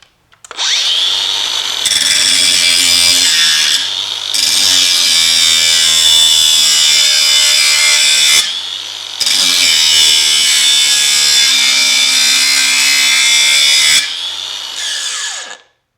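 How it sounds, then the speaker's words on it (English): Makita DGA513 cordless angle grinder cutting a piece of metal, a loud sustained high-pitched whine and grinding screech in two long passes with a brief pause between, close up and alone. "I'll try out the grinder on this piece of metal here"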